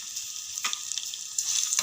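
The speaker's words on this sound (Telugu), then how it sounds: "నూనె కాగినాక ఉల్లిగడ్డ, పచ్చిమిరకాయలు వేసుకున్నాం." Onion and green chillies sizzle in hot oil in a kadai, a steady close hiss with a couple of sharper bursts as pieces hit the oil.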